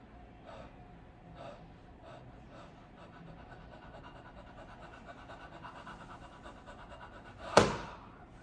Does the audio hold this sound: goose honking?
no